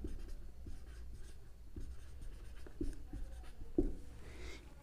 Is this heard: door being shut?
no